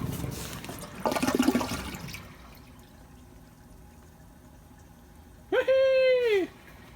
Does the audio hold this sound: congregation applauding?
no